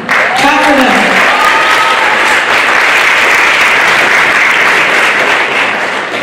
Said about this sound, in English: Thank them. Clap for them.